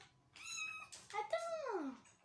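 A cat in the Minecraft video game gives a couple of clear, close meows, the second a longer falling cry, heard on their own without speech.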